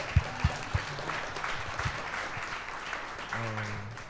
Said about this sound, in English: y'all can clap it up for that